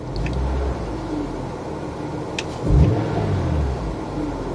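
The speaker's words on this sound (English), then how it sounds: "Let's just give it a rev." A BMW engine idling with a steady low rumble, then revved once in a brief swell before settling back to idle, heard close and without voices.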